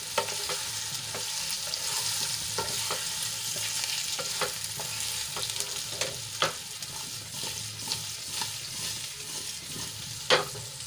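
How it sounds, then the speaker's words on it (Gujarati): Leftover khichdi muthiya are stirred into a sizzling tempering with curry leaves, a spoon scraping and tapping the pan now and then over a constant close frying hiss; no voices. "સરસ રીતે આપણે વઘારમાં મિક્સ કરી લઈશું"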